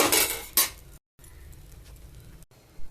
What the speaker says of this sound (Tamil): அடுப்பில் எண்ணெய் சட்டி வச்சுட்டு எல்லாம் வறுத்துக்கணும்